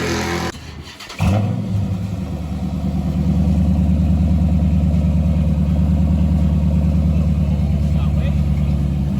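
Dodge Charger Pursuit police car with a Hemi V8 roaring steadily and loudly during a burnout, a sustained heavy engine drone after a brief dip, with voices partly under it.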